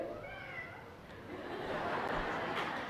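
A voice imitates a cat's meow with a thin, short, rising mew at the start, followed by a noisy murmur from a large gathering in a hall.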